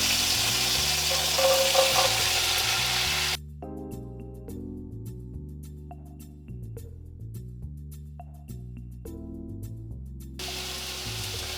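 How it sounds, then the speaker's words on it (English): Vegetables sizzle in the pan used to sear a beef brisket, a loud steady hiss that cuts out after a few seconds and returns briefly at the end, over background music. "now that we've seared both sides, we can take it out and cook our vegetables a little bit"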